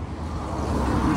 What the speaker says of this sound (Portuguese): Tá passando carro aqui na pista.